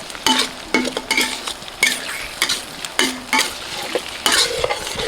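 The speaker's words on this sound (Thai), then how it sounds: "เราก็จะใส่ไข่นะครับ นี่นะครับใส่ไข่ ใส่แล้วก็ คนเลย" Eggs being stirred in a hot frying pan while cooking glass noodles with cha-om and shrimp: sizzling frying with repeated scraping, clattering stirs of a utensil against the pan in an irregular rhythm, close and fairly loud, no talking.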